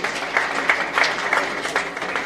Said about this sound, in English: A very big round of applause to Honorable Mao.